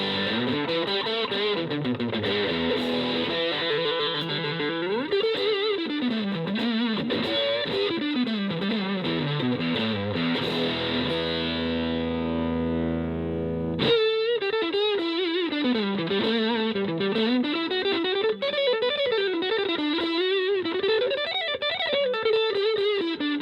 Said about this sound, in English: Let's go to the crunch channel and see how it does with gain all the way up